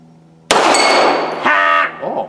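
One loud crack from a Girsan Regard MC pistol, a Beretta 92FS clone, fired at an outdoor steel target, followed by a ringing metallic clang from the hit plate.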